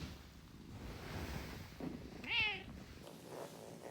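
A single cat meow rises and falls near the middle, fairly faint against a soft windy background hiss, with a faint rustle around it.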